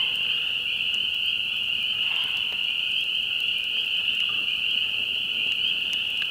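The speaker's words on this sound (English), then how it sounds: "It's one thing about springtime is all the nightlife. But couple more months, those frogs are gonna be ready" Spring frogs call at night in the woods, a dense, continuous high trilling chorus that holds steady and unbroken, fairly loud and unaccompanied by voices.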